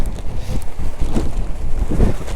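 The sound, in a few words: strong wind on a rainy monsoon ride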